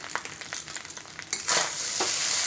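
Fried rice being stirred in a hot pan with fried rice spice mix, a steady crackling sizzle with scraping strokes that swells louder and denser in the second half, close and without voices.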